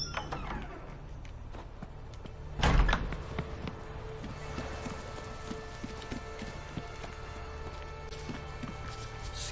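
A wooden door opens in The Witcher 3 game with one short loud knock-like thud partway through, set against a steady ambient game background with faint hoof-like clatter.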